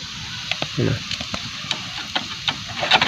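Banana cake batter toasts in oil in a pan, giving a steady crackling sizzle with small pops and spatters, close and clear, with faint scraping around it.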